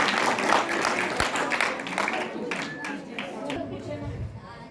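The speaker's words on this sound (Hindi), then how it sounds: "तालियां बजा दो एक बार" Audience applause at a Hindi astrology quiz competition, a dense steady patter of many hands clapping close by with crowd chatter mixed in, holding for several seconds before easing slightly toward the end.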